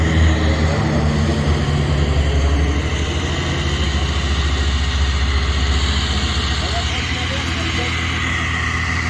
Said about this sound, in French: vous voyez le Canadair qui est en train de lâcher un peu d'eau